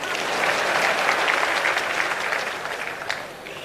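Crowd clapping at a public address by a Kenyan cabinet secretary, a sustained wash of dense applause from a large audience that fades slightly toward the end.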